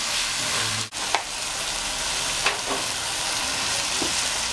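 Ingredients sauté in a pan for shrimp gumbo, giving a steady, close sizzle and hiss with a couple of brief clinks and stirring knocks.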